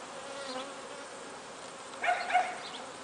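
Honeybees buzz at an open beehive during an inspection, a faint, steady hum with a couple of louder close passes near the end.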